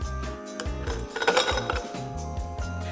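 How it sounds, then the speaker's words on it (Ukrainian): Ice cubes clatter and clink into a Collins glass in several quick bursts, close up, with ringing glassy tones and no talking. "Ми беремо бокал великого об'єму, це може бути винний бокал або ж колінс, як в мене, і насипаємо в нього лід."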